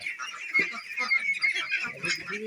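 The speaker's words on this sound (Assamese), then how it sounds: "বগা হাঁহ" White ducks honk and quack repeatedly in a busy, overlapping chorus, fairly close but moderately quiet, with no talk over it.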